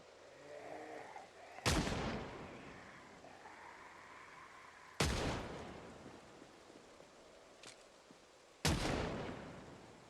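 Three loud, sharp gunshots from a gun in the Project Zomboid video game, spaced a few seconds apart, each with a short decaying tail over a quiet background.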